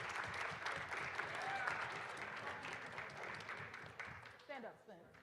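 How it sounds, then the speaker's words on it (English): Applause at a school professional panel honoring the teachers of the Black Affinity Group, a dense wash of clapping from the room that runs steadily and tapers off near the end. "Let's give them a round of applause,"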